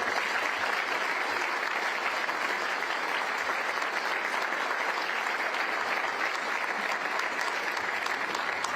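A crowd at a Chicago event unveiling a lakefront Bears stadium plan claps in a dense, even wash of applause that holds at the same strong level throughout.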